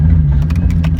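A Nissan S14 240SX with a swapped VQ35 V6 engine growls loudly from inside the car while driving, a brief strong low rumble with slight revving fluctuation.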